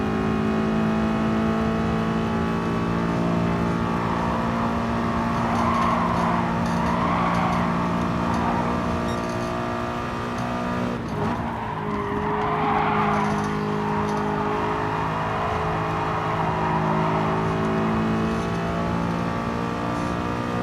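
A race car engine in Gran Turismo Sport drones loudly and steadily at high revs, pitch shifting briefly around a braking point before pulling back up, with no voices over it.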